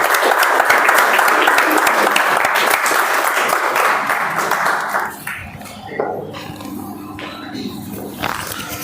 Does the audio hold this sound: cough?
no